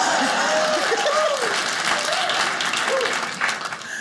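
A comedy-show audience breaks into sustained applause, dense and loud throughout, with a few cheers and voices mixed in before it tapers slightly at the end.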